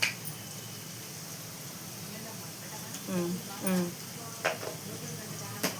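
Onions, tomatoes and green chillies fry in a pan for crab curry, giving a steady low sizzle with a few stirring scrapes and clinks, while people talk over it.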